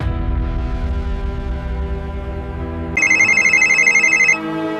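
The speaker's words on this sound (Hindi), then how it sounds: "अब एसपी साहब का फोन आ रहा है" A mobile phone rings with an incoming call, a bright repeating ringtone cutting in loudly over a droning background hum and then stopping.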